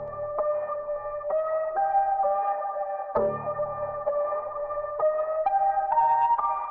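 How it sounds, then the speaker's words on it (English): A short synth melody loop from FL Cloud in FL Studio, with bright, ringing notes stepping through a repeating phrase over a low bass pulse. The music is moderately loud and there are no voices. "the main melody that I'm using in the beat is a loop from FL Cloud that sounds like this"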